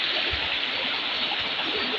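River water rushes in a steady, dense wash, loud and close, with no pauses over the whole moment.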